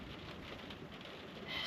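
Steady rain and wind outside on a stormy morning, a dense, even hiss of falling drops with no voices, holding constant through the short stretch and swelling slightly at the end.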